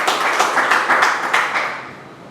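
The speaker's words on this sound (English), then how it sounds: "So once again, a big round of applause to Rajesh Paligiri." A burst of clapping from an audience at a meeting after a speech, steady and fairly loud, with no voices, slowly fading toward the end.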